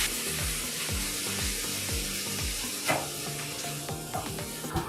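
Eight ounces of cream cheese melting in a pan for spinach and artichoke dip, giving a steady close sizzle with soft scraping strokes of stirring repeating in a regular rhythm.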